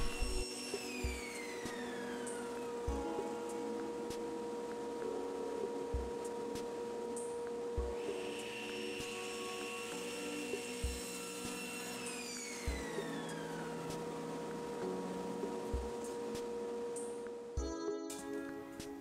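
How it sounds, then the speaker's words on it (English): Table saw trimming the ends of a wooden bowl blank in a woodshop, a steady motor whine with a cutting pass that rises and falls, overlaid by regular faint knocks, ending with a brief clatter. "Now I will use the table saw to trim the ends."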